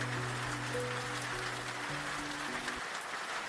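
Steady rain falls without pause, a soft even hiss of drops with a faint low tonal hum underneath and no voices.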